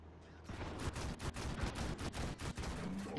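Tank cannon and gunfire in World of Tanks, a light Pz II J firing at an unarmored Medium III, as a dense, continuous barrage of loud overlapping shots and blasts with repeated sharp peaks.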